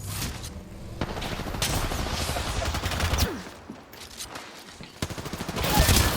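Video game gunfire cracks out in rapid bursts and single sharp shots, loud and close, with a dense rattling stretch in the middle and more shots near the end.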